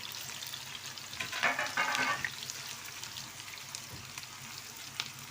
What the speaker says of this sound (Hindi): अब इसमें डाल रहे हैं हम तड़के का प्याज